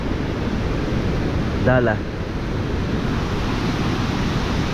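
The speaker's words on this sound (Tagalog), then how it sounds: "Tumalakas yung hangin." Strong wind sweeps across a seashore in a steady, loud broadband rush that fills the whole clip, with a brief voice cutting in partway through.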